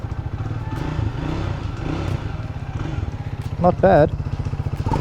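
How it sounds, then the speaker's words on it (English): A Triumph Speed 400 motorcycle started without the clutch, settling into a close, steady, pulsing single-cylinder idle, with a brief louder blip near the end and a short spoken comment. "So this bike, you don't actually need the clutch to start it like all other Triumphs."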